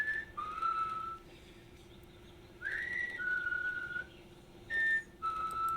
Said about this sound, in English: And then these two girls happen to also know the whistle call.